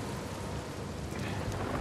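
Steady, hissing rain with a low rumble of thunder underneath, heard in a rainstorm scene from the video game Uncharted 4, a brief, even wash of sound without any talking.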